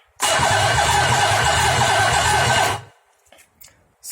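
A Nissan 300ZX VG30DETT twin-turbo V6 on a run stand starts at once and runs loud and close for about two and a half seconds, then cuts off, leaving faint clicks.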